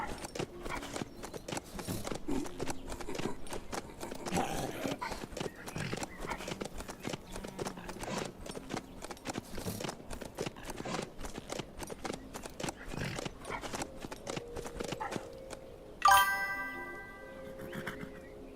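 Horse hooves clip-clopping in the zombie survival video game HumanitZ, a steady rhythmic trot running continuously at moderate volume, ending with a brief chiming game tone near the close.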